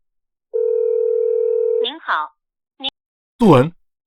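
A telephone ringback tone on an unanswered call, heard as one steady, loud electronic tone holding for over a second, followed by brief voices speaking.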